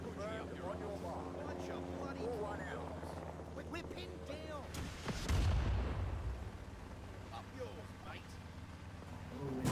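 Bombs dropping in the Vietnam-war shooter Rising Storm 2: Vietnam, a deep rumbling boom that swells around the middle amid ongoing engine drone and battle noise, with players talking over it.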